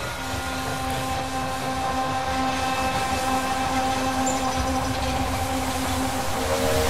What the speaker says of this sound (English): The train has arrived at the station.